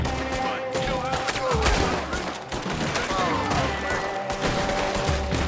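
Gunfire crackles in the Red Dead Redemption 2 video game, a dense, continuous volley of shots and rapid bursts running throughout with little break, loud and close, mixed with game sound.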